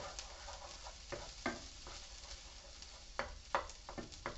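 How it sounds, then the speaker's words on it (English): Fried rice is stirred in a pan while egg is broken up, making quiet intermittent spatula scrapes and taps over a soft, low sizzle. "Trying to get the egg broken up a little bit so it's not so chunky in there."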